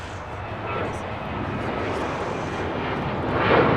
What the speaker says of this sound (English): We do have a special livery rolling down to 25 right.